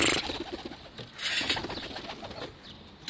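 A loose pigeon coos softly nearby in a short burst of low, throaty calls, with a flutter of wings partway through.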